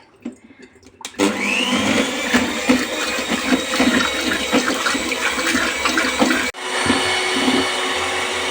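A blender whips ayran yogurt drink until frothy, starting after a brief quiet moment and running loud and steady, with a short pause before the motor resumes.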